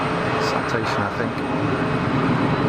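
A Turkish Airlines Airbus A321neo taking off at Geneva Airport, a loud continuous jet engine roar that stays strong and steady throughout, with a few faint voices underneath.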